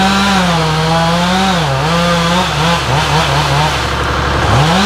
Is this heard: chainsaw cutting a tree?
yes